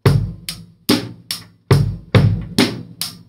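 A funk drum beat on a kit with the bass drum on beats one, three and the and of three, sharp close hits in a steady repeating pattern at loud level, no talking.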